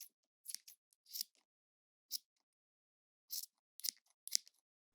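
Scissors snip hair in a salon, a scattering of quick, crisp metallic cuts in small bursts and single clips, close and quiet with silence between them and no talking.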